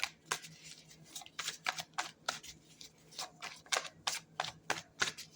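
Tarot cards are shuffled in quick, irregular riffling bursts, close by and crisp, with no one talking.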